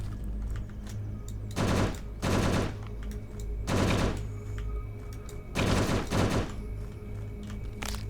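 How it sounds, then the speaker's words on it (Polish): Several loud, broad bursts of zombies exploding in quick clusters over a steady low hum in the video game Last Hope Bunker Zombie Survival. "O, te skubańce wybuchają."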